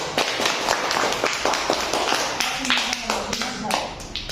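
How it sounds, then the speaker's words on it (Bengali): Children clap at a primary school Victory Day award ceremony, a dense burst of hand claps from a crowd that carries on steadily through a noisy hall with voices around. "হাততালি দাও সবাই।"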